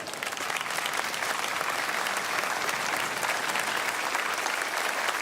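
A large crowd applauds military personnel and veterans at an outdoor 9/11 memorial rededication ceremony in Indianapolis, with steady, dense clapping that holds loud and even for the whole stretch.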